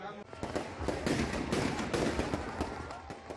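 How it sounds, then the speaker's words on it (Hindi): Fireworks bursting as a Ravana effigy burns at a Dussehra celebration in Kushinagar, Uttar Pradesh: a dense, continuous crackle of sharp pops and bangs, fairly distant, with crowd noise underneath. "उत्तर प्रदेश के कुशीनगर का ये रावण आतिशबाजी की भेंट चढ़ गया।"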